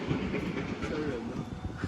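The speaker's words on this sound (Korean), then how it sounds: "파란색 하얀색 기차네" A blue and white train rolls past with a steady mechanical rumble and faint rhythmic rail clatter under a constant hiss, heard from close by, without talk.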